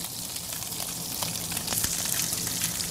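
Blackened fish fries in butter in a pan, giving a steady close sizzle and crackle with scattered pops that grows slightly louder.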